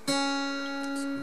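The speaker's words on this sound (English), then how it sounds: "Open second string." An acoustic guitar's open second string plucked once during a guitar lesson, a clear single note ringing and sustaining steadily for over a second, close and unaccompanied.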